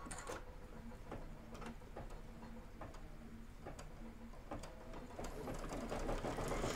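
Sewing machine stitching a quarter-inch seam on a Kimberbell Oh Sew Delightful quilt, a steady mechanical whir with regular ticking, running alone and growing slightly louder toward the end.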